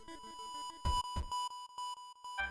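A phone in the middle of a horror game among graveyard tombstones gives a rapid string of short electronic beeps and chirps. The beeps are quiet and repeat in an uneven rhythm, with two sharper clicks near the start.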